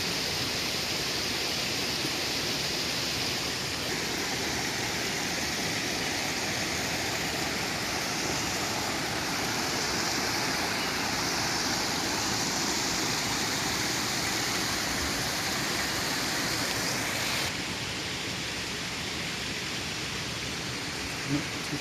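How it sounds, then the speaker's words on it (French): River water pours into drain grates in a constant, loud, broadband rush, steady from start to finish and heard up close. "Donc une partie de l'eau, une grande partie de l'eau part dans les grilles."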